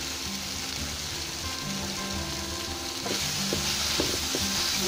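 Potatoes sizzle steadily in hot oil with spices in a pan, with scraping stirs of a spatula that grow louder and clack against the metal toward the end.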